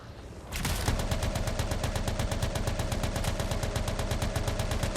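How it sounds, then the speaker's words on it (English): Rapid sustained automatic gunfire from a weapon in the video game Anthem, a loud unbroken stream of evenly spaced shots that starts abruptly after a brief quiet moment. "This gun is so awesome. Just keep shooting and shooting and shooting."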